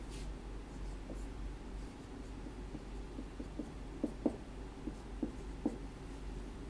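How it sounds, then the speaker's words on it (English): Marker writing on a board during a pre-calculus lesson, a faint string of short squeaky strokes and taps over a steady low hum, with no one talking. "I'll write it a little bit larger here so you guys can see it better."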